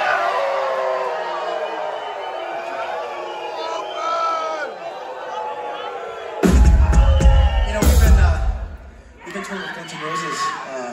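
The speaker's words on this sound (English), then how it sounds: "I think you guys are the first crowd to howl for me" A concert crowd at the Plaza in Orlando chatters and laughs, then breaks into loud cheering and howling for several seconds before settling back into murmuring babble, with voices talking throughout.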